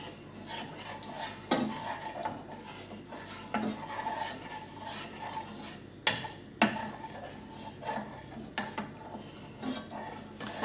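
A plastic spoon stirs a mixture in cream, giving soft scraping and clinking strokes against the bowl at an uneven pace, with a few sharper knocks, alone and close.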